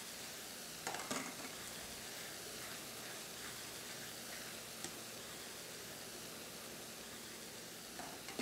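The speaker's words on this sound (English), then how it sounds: "listen for that sizzle" A soft, continuous sizzle of risotto cooking in a pan, with occasional stirring scrapes and light clinks, quiet and close.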